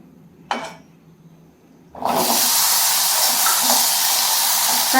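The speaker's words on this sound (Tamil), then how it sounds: "இந்த வெங்காயத்தை வதக்கி போடணும்" Peeled whole small onions (shallots) dropped into a hot oiled pan, a brief clink, a short lull, then a loud sudden burst of sizzling that settles into a continuous close hiss.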